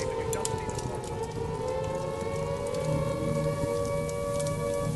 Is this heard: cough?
no